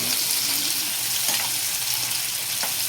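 Curry masala with ground tamarind sizzles and fries steadily under a lid in a pan, a dense continuous crackle at even loudness throughout.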